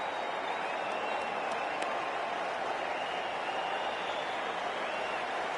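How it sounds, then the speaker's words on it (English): A stadium crowd at an IPL 2025 cricket match, a broad, continuous roar of cheering and applause that stays steady and fairly distant, with no clear voices standing out. "already the crowd is up and about"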